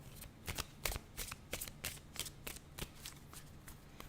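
A deck of oracle cards being shuffled by hand, with a steady run of crisp riffling bursts roughly every third of a second, close and fairly quiet, with no voices.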